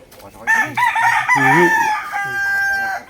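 A fighting-cock rooster crows loudly and close by in a long drawn-out call on a small backyard farm in Ternate, with another crow overlapping near the end.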